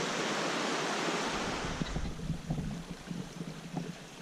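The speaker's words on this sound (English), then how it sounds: "We're getting the obligatory video of Long Creek on our first day on the Appalachian Trail." Long Creek on the Appalachian Trail flows in a steady, broad rush of water that is loud and close at first, then eases to a softer wash with small splashes and gurgles, with no voices.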